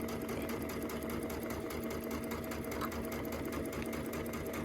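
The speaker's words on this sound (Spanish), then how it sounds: "para mí es más sencillo coser los lados anchos" A sewing machine runs steadily, stitching the wide side seams of a zippered fabric pouch with a quarter-inch seam allowance; the continuous close motor hum and rapid needle clatter go on without pause and without talk.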